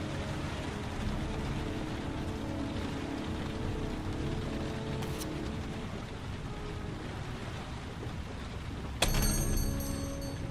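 Steady rainfall in the game Heavy Rain, a constant soft hiss of drops at low to moderate level, ending in a sharper burst of sound near the close.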